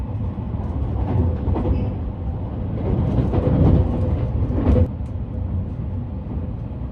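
Rakuraku Yamato commuter express train running through Hirano station, a steady low rumble of wheels and motors with rising and falling rail noise, loud and continuous throughout.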